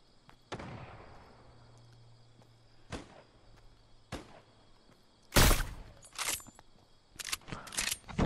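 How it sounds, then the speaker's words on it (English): Gunshots in Fortnite ring out as several sharp, separate cracks spaced irregularly, ending in a quicker cluster of loud reports over a faint background hum. "I shot directly over his head"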